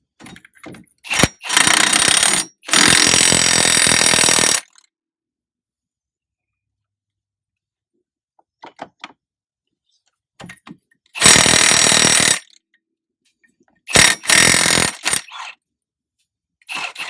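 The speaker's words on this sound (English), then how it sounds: "I'm going to use my impact to seat everything." An impact wrench rattles in loud, hard bursts while seating a castle nut and rear wheel bearing on a 2015 Polaris Ranger Crew 900, with two long runs early and shorter hits later, separated by quiet workshop pauses.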